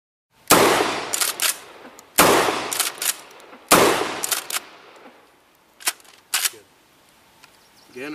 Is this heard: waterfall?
no